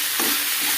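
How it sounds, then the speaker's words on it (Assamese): Food seasoned with soy sauce and a little salt fries in a pan, a close, bright sizzle with a quick stirring scrape. "এতিয়া আৰু ভালদৰে মিক্স কৰি দিম আৰু 1 মিনিট মান ভাজি দিলে হৈ যাব"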